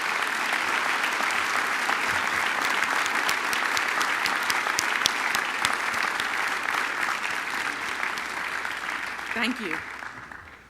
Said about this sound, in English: Please recognize all of these scholars with a round of applause.